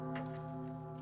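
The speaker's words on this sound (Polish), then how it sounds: "Dobra, wybiła godzina." Clock in a Roblox horror game striking the hour, a sustained ringing chime with layered harmonic tones, close and fairly soft, with no talking over it.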